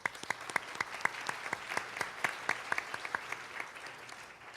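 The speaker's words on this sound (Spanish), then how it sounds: "Recibamos con un cálido aplauso a la doctora Rosemary." A lecture audience applauds to welcome a speaker at a conference, with sparse, distinct handclaps in an irregular patter that is fairly faint and steady, then tapers off.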